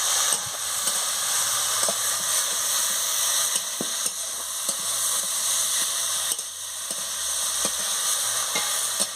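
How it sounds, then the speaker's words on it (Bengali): Potato and carrot pieces sauté with fried spices in a pan, giving a loud, steady sizzle throughout with occasional clicks and scrapes of stirring, and no voices. "এবারে আলু আর গাজরটা দিয়ে মশলাটি কষিয়ে নেবো, ভালো করে কষিয়ে নেবো"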